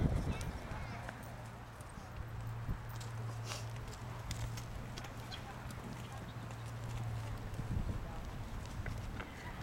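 Horses walking in a riding arena, their hooves clip-clopping in an uneven rhythm at a moderate distance under a steady hum and faint background noise, with scattered sharper thuds.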